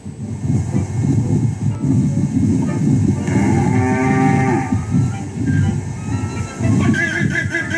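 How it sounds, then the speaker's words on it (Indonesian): Deep, drawn-out water buffalo bellows repeat over a rumbling background, the low calls rising and falling in long moans. "Uniknya hal ini terjadi berkali-kali setiap kerbau mengeluarkan suara."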